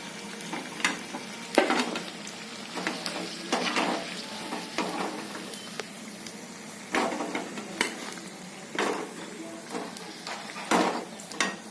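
Green chilli bhaji (chilli fritters) frying in hot oil, a steady close sizzle broken by repeated scraping and clinking as the fritters are stirred and lifted out, with no talk.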